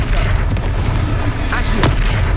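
A Confringo spell explosion in the video game Hogwarts Legacy, a heavy booming blast within dense, loud combat noise, with a sharper crack near the end.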